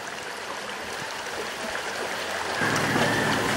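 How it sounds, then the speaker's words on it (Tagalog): River water flows steadily near Barangay San Isidro, a continuous broadband rush and gurgle that swells slightly louder toward the end, with no voices. "maririnig mo na ang tila umaawit na tunog ng agos ng tubig"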